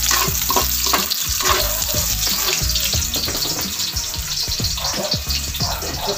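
Garlic and onions fry in a hot pan with a loud, continuous sizzle, along with scattered clatter and scraping from stirring.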